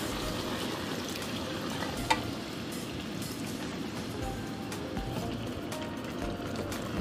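Coconut milk poured into a pan of cooking shrimp and mustard greens, a steady soft sizzle and bubbling with faint stirring and one brief clink, close and even throughout.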